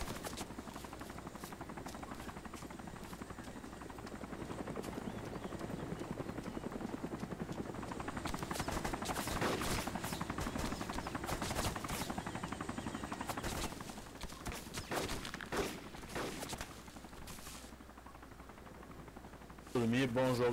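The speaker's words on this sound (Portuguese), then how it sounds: "Os caras tá atirando, velho." Gunfire from players in the survival game DayZ, bursts of shots crackling over a steady helicopter-like rotor drone that runs throughout, with someone talking over the action.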